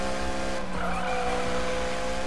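A Beck Kustoms car, the priciest car in Need for Speed, skids in the game: a loud, steady engine drone runs throughout while a brief, whining tire squeal swells in near the middle and fades, with no voices.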